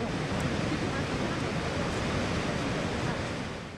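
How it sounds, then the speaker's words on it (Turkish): Niagara Falls roars as a steady, dense wall of rushing water, loud and unbroken, fading slightly at the end. "dünyanın en ünlü yerlerinden biri Niagara Şelalesi"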